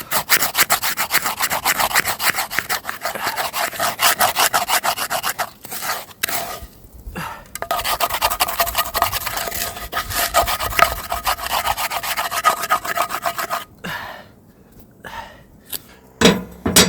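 A small metal scraper rasps across a cast iron pan in a wood-stove cabin. The scraping comes as steady, dense rubbing strokes close by, breaks off briefly twice, then returns in a few short scrapes.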